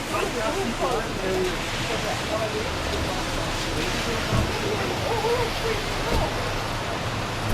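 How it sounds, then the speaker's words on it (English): Steady wash of rain falling in St. Petersburg, Russia, a dense hiss throughout with faint voices and a few soft thuds underneath. "It's still raining."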